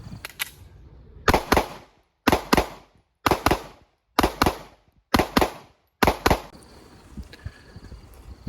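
Handgun fired in rapid double taps at a training range: six evenly spaced pairs of sharp, loud shots with an even rhythm, each pair ringing out before the next, followed by a quieter tail with faint background noise.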